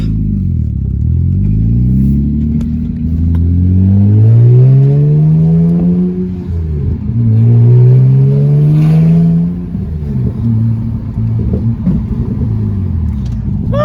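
A BMW 335i fitted with a manual gearbox swap accelerates up a steep driveway, its engine note rising and falling through two loud, sustained pulls with a brief dip between, close to the microphone.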